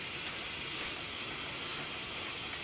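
Steady, loud hiss of steam venting from a fireless steam locomotive at an industrial site in Wales, a continuous broadband rush with no breaks and no voices.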